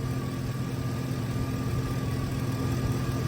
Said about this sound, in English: the engine doesn't sound too bad